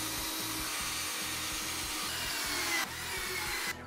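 A power drill drives screws into wood while building a homemade dolly for a VW Bug engine, its motor whirring steadily in close, rhythmic pulses with a short drop near the end.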